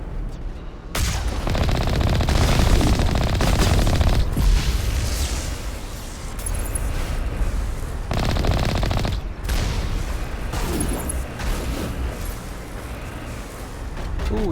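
Sustained automatic gunfire and bursts of shots from the sci-fi shooter video game Mass Effect, loud and dense across the whole stretch, with short pauses between volleys and booming impacts mixed in.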